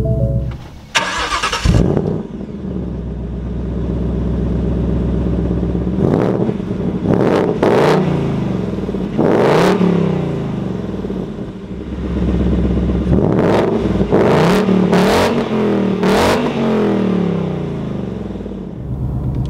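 A Ford Mustang Mach 1 with a V8 and manual gearbox cranks and fires up, then settles into a loud, close rumbling idle broken by several sharp throttle blips that rise and fall, with no one talking.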